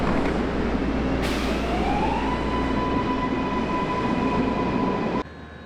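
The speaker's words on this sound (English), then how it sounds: "Made it on the train." A MARTA subway train in Atlanta rumbles loudly from inside the car, with a steady high whine rising in pitch, until the noise drops off abruptly near the end.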